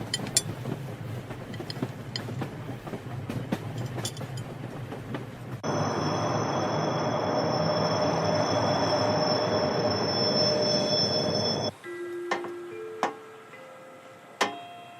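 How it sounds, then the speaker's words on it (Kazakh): Express passenger train No. 236 from Astana to Shymkent pulls into the station at platform one. A continuous rolling rumble and hiss fill the clip, ending with a few clear ringing tones. "Нөмірі 236-шы Астанадан Шымкентке қатынайтын жүйрік пойызы бірінші жолға келіп тоқтады"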